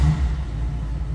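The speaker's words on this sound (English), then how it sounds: "Let's go ahead and fire this up so you can hear it run." A 1965 Ford Mustang Convertible engine idling after start-up, a steady low rumble close by with no talk.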